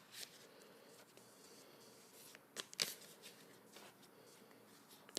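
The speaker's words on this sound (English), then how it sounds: "I'll try to shuffle near the mic." Soft papery riffling of cards being shuffled close up, in short uneven bursts with a sharper flutter midway, otherwise quiet.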